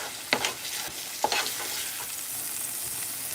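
Ground beef and turkey with onion, green pepper and fresh garlic sizzle softly in a pan for a spaghetti sauce, with a couple of brief stirring scrapes over a steady quiet fry.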